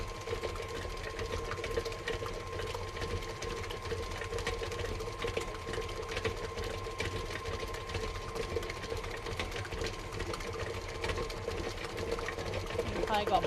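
An older stand mixer beats egg yolks for cake batter at high speed, a continuous close motor hum and whir with a faint rattle, steady throughout with occasional soft talk beneath.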